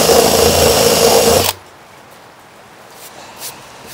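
A handheld power drill with an undersized bit whirs loud and close for about one and a half seconds, then stops abruptly, leaving quiet room tone with faint knocks.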